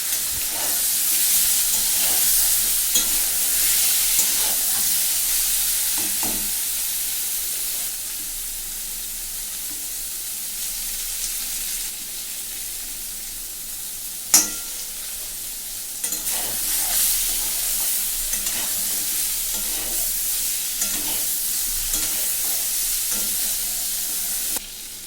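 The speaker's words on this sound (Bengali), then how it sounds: "এবার বেগুনগুলোও হালকা করে ভেজে নেব।" Brinjal (eggplant) pieces fry in hot oil with a continuous bright sizzle and hiss, broken by occasional stirring scrapes and one sharp clack midway, close and steady for the whole stretch.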